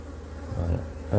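Honey bees from a hive being worked, with brood combs of mostly worker cells, buzz in a low steady drone that swells louder midway and again at the end, close by.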